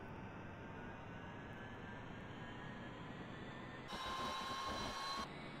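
A UH-1H Huey helicopter's turbine engine idles steadily in the DCS flight simulator, a continuous loud whine and rumble with rising tones; a brief louder, brighter surge swells near the end before settling.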